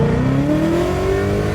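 A 2017 Ford Mustang accelerating hard in first gear, its loud engine note rising steadily in pitch from inside the car.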